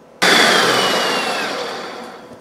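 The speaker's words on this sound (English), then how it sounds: "Now I'm going to blend it, and then we'll put it in the pan." A kitchen blender whirs into action on crushed pineapple for an Easter jello, starting abruptly and running as a loud, steady whine that slowly fades in level over a couple of seconds.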